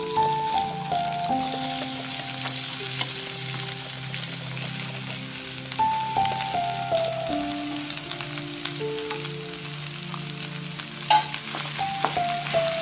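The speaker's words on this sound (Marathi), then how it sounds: "आणि हे चांगलं मिक्स करून घेऊया।" Mashed boiled potatoes are stirred and mixed into a seasoned mixture in a pan, with soft, continuous scraping and squishing under gentle background music.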